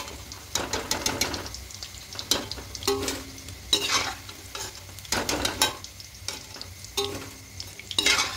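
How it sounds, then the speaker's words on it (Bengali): Soybean chunks frying in hot oil until browned, a close continuous sizzle punctuated by frequent sharp scraping and tapping as a utensil stirs and turns the pieces. "এভাবে লাল লাল করে ভেজে নিলাম।"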